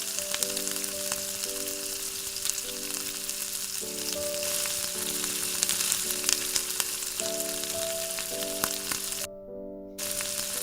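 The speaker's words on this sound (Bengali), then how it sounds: "বাকি মাংসগুলো ভেজে নিচ্ছি।" Chicken pieces sizzle and crackle in hot oil for chili chicken, a dense, steady frying hiss with scattered pops, loud and close, while a tonal melody plays in the background and no one speaks.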